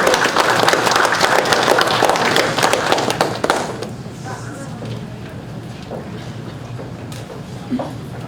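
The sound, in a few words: applause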